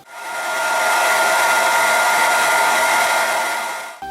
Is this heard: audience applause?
no